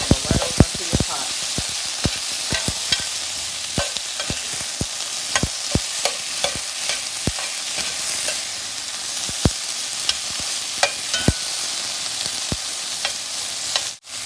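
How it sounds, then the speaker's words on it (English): Softening vegetables stirred in hot oil for beef stew: a steady, bright sizzle runs throughout while a utensil clicks and taps against the pot dozens of times in an irregular rhythm, close and fairly loud. "And then you just do this stir."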